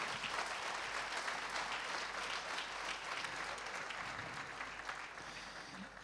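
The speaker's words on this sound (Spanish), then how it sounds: "Aplauda al Señor." Church congregation applauding together, a steady, dense wash of clapping that holds at a constant level from start to finish with no voices on top.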